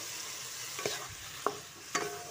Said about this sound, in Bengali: মশলা দিয়ে ভালো করে কষিয়ে নেব।